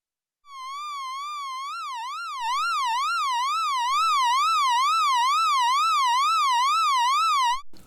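A bright, buzzy electronic tone from a Behringer 2600 ring modulator fed a triangle wave, wobbling rapidly up and down in pitch in a steady zigzag, loud and continuous for several seconds.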